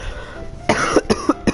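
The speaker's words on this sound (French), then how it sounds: "je m'excuse, je tousse comme un vieux" A man with hay fever coughs in a quick series of four or five harsh, close bursts after a moment of quiet breathing, loud and without talk.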